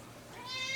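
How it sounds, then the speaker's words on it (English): A male house cat meows indoors, giving one drawn-out, rising meow that grows a little louder toward its end. "my cat has decided he's gonna come in and give his 2 cents as well"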